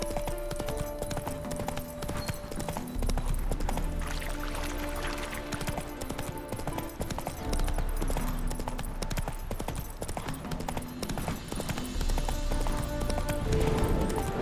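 Roach the horse's hooves clip-clop steadily on a path in The Witcher 3, running under continuous game music and ambience at moderate loudness.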